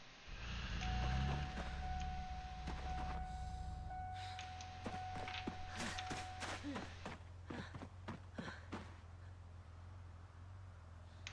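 A car door-open warning chime in the Project Zomboid survival game, a sustained electronic tone that holds for several seconds before stopping. A series of sharp clicks and footstep-like taps follows, with no clear talking.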